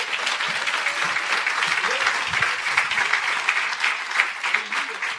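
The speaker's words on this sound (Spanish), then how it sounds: "Te puedes dar un aplauso a ti mismo" A seated audience applauds in a dense, sustained burst of many hands clapping at once, steady and fairly loud for the whole stretch, with no voices standing out.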